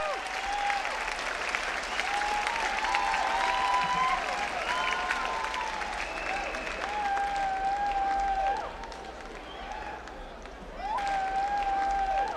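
A crowd at a bodybuilding show applauds steadily in a large venue, a continuous wash of clapping mixed with loud sustained music, with a brief dip before the applause swells again.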